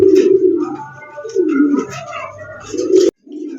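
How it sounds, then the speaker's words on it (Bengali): Pigeons coo close by, low throaty rolling calls repeating in overlapping bursts, loud and near with no other sounds. "স্ক্রিনে টপ কোয়ালিটি একজোড়া গিয়াচল্লি কবুতর আছে"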